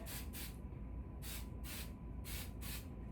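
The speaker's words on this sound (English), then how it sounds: "you could go in at the end with more hairspray just to touch it up a little bit" Hairspray hisses from a can onto hair in several short, close bursts, two quick pairs separated by brief pauses, fairly soft, with no talking.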